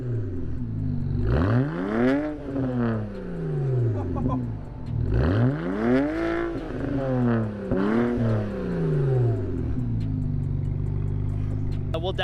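A BMW 535xi with the N54 engine and a custom quad exhaust revving hard in repeated blips, the engine swooping up and falling back three times, loud and close, then settling to a rough idle.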